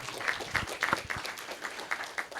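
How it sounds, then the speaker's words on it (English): National Honor Society inductees at a spring induction ceremony clap for themselves; the applause is light and scattered, with individual claps standing out rather than a dense roar. "Give yourselves a round of applause right now for the accomplishments you've made"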